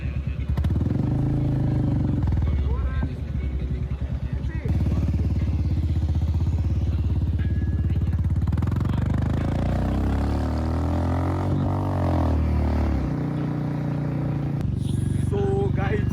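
A Bullet motorcycle on a ride through Palpa, Nepal, gives a loud, close, continuous engine thump and rumble with shifting revs, while a rider talks over it.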